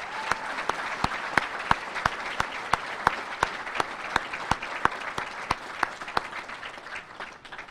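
Steady applause from a crowd at a medical school match day fills the whole stretch, with a few sharper individual claps standing out at a roughly regular pace.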